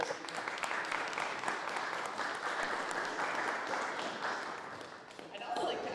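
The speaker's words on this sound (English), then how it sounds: "If you could give them a round of applause." A seated audience at a mayoral candidate forum gives a sustained round of applause that stays even for several seconds, dipping briefly near the end before swelling again.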